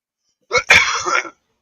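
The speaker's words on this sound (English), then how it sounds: "Cough the other way or cover your mouth." A single close, loud cough bursts out, harsh and throaty, and rasps on for under a second after a brief breathy catch.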